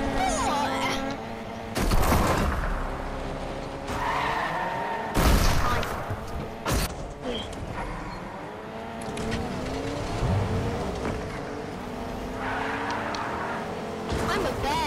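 In a video game, a car races and skids while snipers fire on it from a bridge: engine revving, tyre screeches and sharp bursts of gunfire, with players talking throughout.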